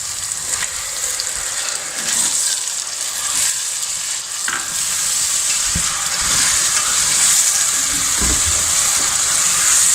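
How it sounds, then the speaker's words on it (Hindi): Onions and tomatoes frying in a pan for egg and peas curry, a steady close sizzle with occasional stirring scrapes, continuous and fairly loud throughout. "दस मिनट तक अब इसको हम फ्राई करेंगे"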